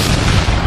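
A cartoon cannon fires in a single heavy, booming blast that fills the whole moment, loud and close, with no voices.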